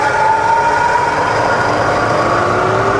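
Bridgeport milling machine spindle running in high range at about 1,000 RPM, a steady close mechanical whine with a smooth hum, continuous and fairly loud with no talking.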